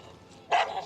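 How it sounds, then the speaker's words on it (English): A dog gives a single short, loud bark near the end after a quiet stretch, heard alone without talk over it, in a reenactment set in the Grand Canyon. "The dog started barking"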